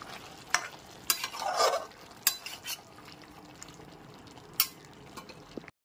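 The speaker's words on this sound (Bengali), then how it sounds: "টমেটো কুচিটা দেওয়ার পরেও খুব ভালো করে কষিয়ে নিতে হবে।" A spice paste with chopped tomatoes is stirred and fried in a pan, with a steady close sizzle and scraping spoon strokes, plus a few sharp utensil clinks against the pan. There is no talking.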